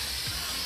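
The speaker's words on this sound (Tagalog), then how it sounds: "Uy, mag-spray." A spray bottle gives a short hissing spritz indoors, a soft steady mist under low room noise.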